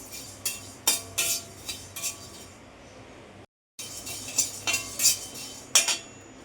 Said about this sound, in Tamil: தனியா போட்டாச்சு. கொஞ்சம் நல்லா வறுபடட்டும்.